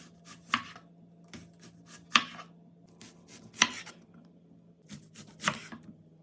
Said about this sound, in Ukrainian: І тепер цю цибулю треба порізати кільцями товщиною 5 мм.